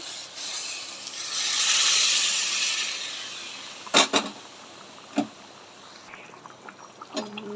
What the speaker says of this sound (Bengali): ভালো করে কষানো হয়ে গেছে, এখন গরম জলটা দিয়ে দেবো।